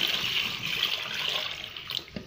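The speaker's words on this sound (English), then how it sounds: "Because we are making 1 liter of bleach, so you pour 1 liter of water there" Water poured steadily into a container while making homemade bleach, a continuous close splashing and gushing stream that tapers near the end, with no talk.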